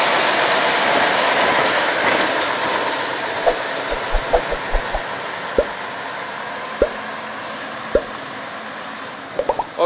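A locomotive rolls past on a railway triangle turning track, its steady loud rumble carrying a scattering of sharp wheel clicks and clacks over the rails, near and continuous.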